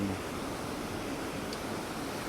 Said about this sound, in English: I'll show you the waterfall that you're next to.